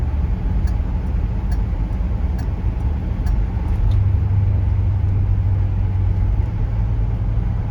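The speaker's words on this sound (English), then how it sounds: "I love the turn signal too." The turn signal of a 1966 Pontiac Catalina 389 V8 coupe ticks in a steady, even rhythm inside the cabin over the low rumble of the car cruising on the road.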